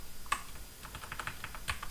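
Computer keyboard keys are pressed in a quiet, irregular series of light clicks and taps while building a game character.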